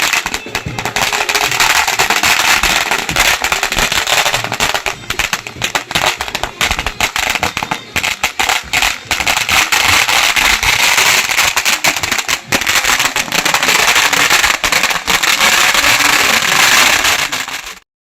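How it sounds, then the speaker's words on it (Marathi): Firecrackers burst in a dense, unbroken crackling barrage at the start of a palanquin procession for a Sai temple's first anniversary, loud and close for the whole stretch. "फटाक्यांच्या आतिषबाजी मात्र आपल्या मिरवणुकीची आणि पालखी सोहळ्याची सुरुवात झालेली आहे"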